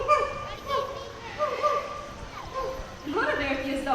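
At a bird park show, a parrot-like bird mimics a small dog's yapping barks, several short high yips in sequence, with a presenter talking alongside.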